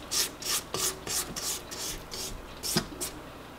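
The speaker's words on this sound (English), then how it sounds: "you may need to scrape down your bowl" A spatula scrapes around a mixing bowl of cake batter in a series of about eight short, close rasping strokes, evenly paced and fairly soft.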